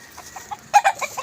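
A fighting rooster gives a short burst of close, clear clucks, a few soft notes followed by two louder ones.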